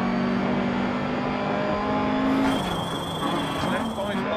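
A rally car's brake pads squeal in DiRT Rally on a German or Finnish stage: a thin, steady high whine rises halfway through over a constant engine drone, with a voice talking.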